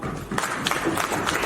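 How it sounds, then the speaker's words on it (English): An audience applauds at an association annual general meeting in a hall, a short burst of steady mid-distance clapping from many hands. "Can you clap for Patrick?"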